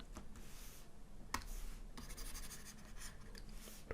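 A pen scratches across paper in quick, faint strokes while a trig equation is written out, with a few sharper taps between bursts of writing in an otherwise quiet room.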